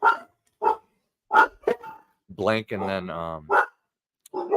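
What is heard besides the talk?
dog barking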